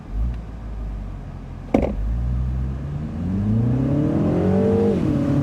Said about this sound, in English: This time we're going to try brake torquing it.